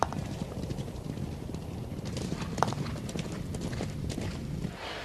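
Horse hooves clip-clop steadily at an even walking rhythm, fairly close, with a faint whinny-like sound around the middle and soft background noise and no speech.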